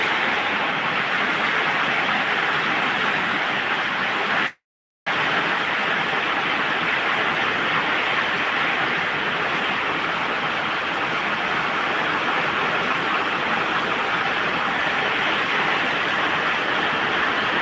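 Heavy rain pours down in a steady, dense hiss with no talk, continuous apart from a brief cut to silence.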